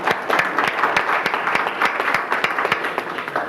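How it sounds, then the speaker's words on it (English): A city council meeting audience applauds a woman turning 100, with many hands clapping in brisk, uneven bursts, a close and lively round with no talking over it. "that deserves a round of applause"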